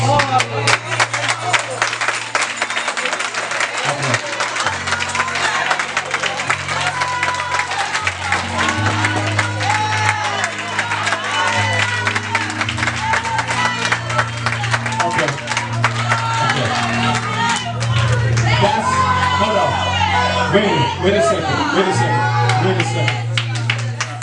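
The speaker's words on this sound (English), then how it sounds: "That's the structured clap that we normally give just to be nice." A church congregation gives a structured clap, a loud, steady crowd of many hands beating together with shouts mixed in, while someone talks over it briefly.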